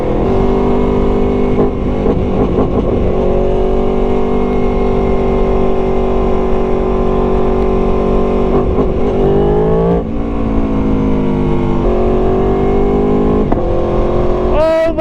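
A 2018 Aprilia Tuono V4 Factory motorcycle's engine revs loud and close, holding a steady high drone before sharp quick-shift downshifts at the end.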